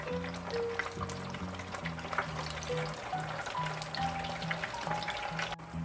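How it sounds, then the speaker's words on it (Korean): Tofu pieces fry in hot oil for Korean tangsuyuk, giving a continuous crackling sizzle with scattered pops, heard close under faint tonal background music. "4분간만 더 튀겨주면 어, 두부 탕수가 완성이 되는 겁니다"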